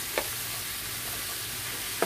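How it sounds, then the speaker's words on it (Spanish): Chicken pieces go into a pan of softened, translucent onions, and a continuous hiss of frying follows, with two short sharp clacks at the start and end. No one speaks. "Voy a agregar el pollo"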